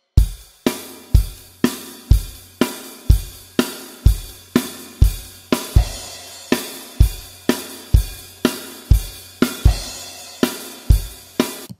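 A drum kit plays a groove, a steady, loud rock beat of regular kick and snare hits with bright crash cymbal accents ringing through, close and without any talking.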